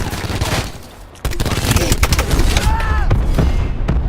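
Gunfire and grenade explosions in Call of Duty: Black Ops 4 multiplayer, a loud barrage of rapid shots and booms after a brief lull, with a voice heard amid the combat.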